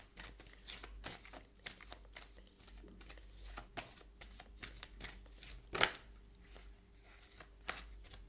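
Tarot cards are shuffled and drawn, with quick papery riffles and flicks repeating steadily and close to the listener. The sound is quiet overall, with one sharper snap partway through.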